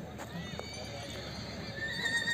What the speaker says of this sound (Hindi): और कुछ घोड़े भी है यहाँ पे